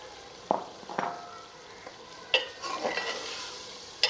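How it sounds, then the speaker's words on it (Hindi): Boiled white beans (lobia) being stirred and fried in masala in a pan: a soft low sizzle under a few sharp spoon scrapes and clinks scattered through, fairly quiet and close, with no talking. "लोबिया को भूनते हुए 6-7 मिनट के लिए पका लेंगे।"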